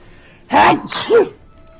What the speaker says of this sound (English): I got sneezes.